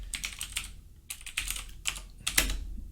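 Keys clatter on a computer keyboard in quick bursts of typing, with short pauses between them and no voices, close and clear.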